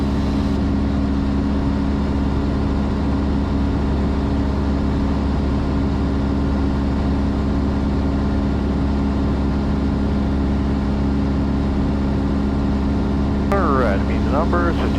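Cessna Skyhawk 172R single-engine airplane droning steadily in flight at night, a loud constant engine and propeller hum heard from inside the cabin throughout, with a voice breaking in briefly at the end.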